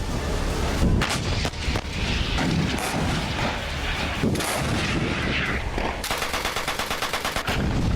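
War footage from the conflict between Armenia and Azerbaijan: dense, loud bursts of artillery and gunfire with booms and rapid rattling, overlapping continuously and without talk.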